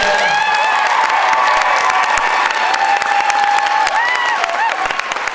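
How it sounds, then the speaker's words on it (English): Loud, sustained audience applause with cheering at a dance competition performance, a continuous dense clatter of many hands with scattered whoops throughout. "let's have another round of applause"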